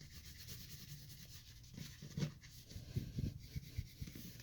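A wax stick is rubbed into a hole to fill it, giving soft, faint scraping strokes that build up and grow more frequent toward the end over a quiet background, with no talking.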